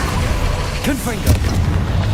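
A Confringo spell going off in Hogwarts Legacy, a short booming burst near the middle, with a whooshing sweep before it, layered over dense game music and effects while a voice speaks.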